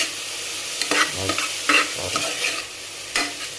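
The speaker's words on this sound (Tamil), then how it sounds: "இங்கே ஆனியன் நல்லா வதங்கட்டும்" Sliced onions sautéing in a pan for a Tamil mutton curry, a constant sizzle broken by several brisk scraping strokes of a spoon being stirred through them, close and fairly loud.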